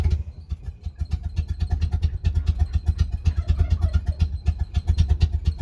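A Leyland Series III engine idling, with a steady, lumpy low rumble and a regular mechanical clatter throughout, close and fairly loud with no talking.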